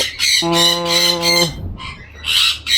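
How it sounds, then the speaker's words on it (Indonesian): A cockatiel (Nymphicus hollandicus) squawking close and loud in harsh repeated bursts, with a sustained whistled tone early on between the calls. "ini burung koktail atau nama populernya burung falk"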